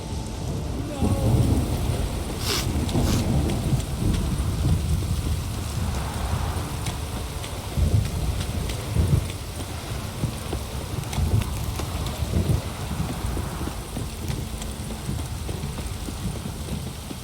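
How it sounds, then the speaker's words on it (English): Steady heavy rain pours throughout the video game Witcher 3, with deep rolls of thunder rumbling in the distance and a few sharper cracks early on. "This downpour's a bastard."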